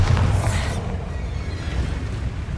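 A Bombarda explosion spell in a wizarding video game bursts with a loud, bright blast that cuts off sharply, leaving a low rumbling tail that fades slowly, with no one speaking.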